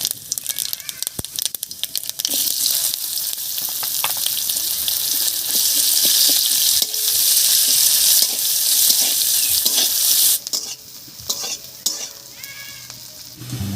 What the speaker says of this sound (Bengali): এবার এই মাছ ভাজার তেলের মধ্যেই ফোড়ন দেব আর ফোড়ন দেব জিরা আর পেঁয়াজ কুচি দিয়ে